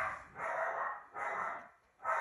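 A dog barks in the room three times in a slow, steady rhythm. The barks are fairly soft and muffled, with short gaps between them and no talking over them.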